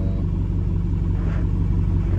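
A Dodge Charger R/T engine idles nearby with a steady, deep rumble that holds even and unbroken throughout, with no voices over it.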